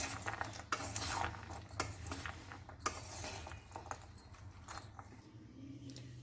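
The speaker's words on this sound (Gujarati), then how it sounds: "સારી રીતે મિક્સ કરી લઈશું બધું જ" A spoon mixes a homemade protein salad in a bowl, making clinking, scraping and rustling sounds in uneven bursts at moderate volume with no speech.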